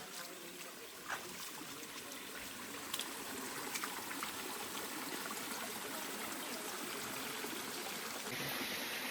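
A small stream or waterfall flows at the foot of Sita Pahar in Kaptai, giving a steady, soft rush and trickle of water throughout with no talk.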